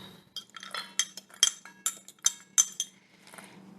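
Frozen blueberries tumble into a mixing bowl in small bursts, a string of light, sharp clinks and rattles against the bowl, close up and fairly quiet with no talking.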